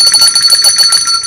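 A loud, rapid electric bell rings continuously with a shrill metallic trill, close and alone.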